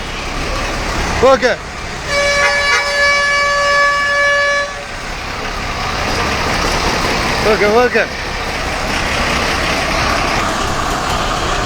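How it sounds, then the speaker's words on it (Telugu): Horns sound at a bus station in Guntur as the Kolipara bus departs, with a long steady horn blast in the middle and brief honks before and after, over busy background noise and a voice talking. "కొలిపర బస్సు బయలుదేరుతుందిగా బయలుదేరుతుంది"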